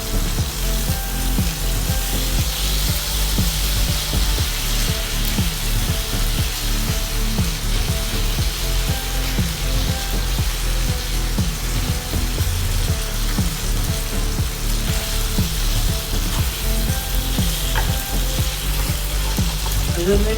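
Bacon sizzles loudly and steadily in a hot pan while it cooks for a longganisa burger. Faint rhythmic scraping ticks sound under the constant frying hiss.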